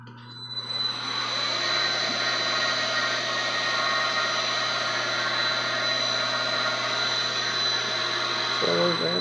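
The spindle of an IH clone CNC milling machine spins up and runs at steady speed, a loud continuous motor whine with a high tonal hum lasting several seconds close by.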